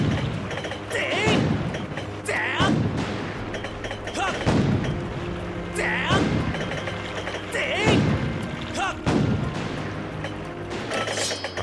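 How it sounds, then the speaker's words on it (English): A ship's cannon in Zelda: Skyward Sword fires repeatedly, heavy booms every second or two amid mechanical clanks and game music, with a voice talking over parts of it. "We must pursue Bzd and keep pounding it with the cannon, Izzard."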